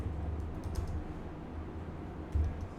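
A port number is typed on a computer keyboard while setting up a cWAN device over SSH: a short run of soft, close keystroke clicks, unevenly spaced, with a slightly firmer press near the end, and no talking.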